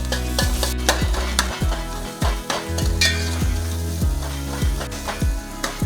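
Shallots frying on high flame in a pan for Kerala beef roast, a loud close sizzle with repeated rhythmic stirring scrapes and knocks of a spoon against the pan throughout.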